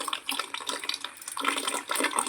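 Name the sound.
water from pipe filling a can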